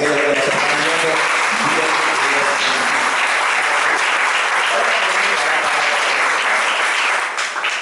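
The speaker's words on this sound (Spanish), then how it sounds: "Pueden regalarle un aplauso a aquellos que nos están viendo" Loud, sustained applause from a church congregation fills the whole stretch, dense and steady with some voices mixed in, tapering slightly at the very end.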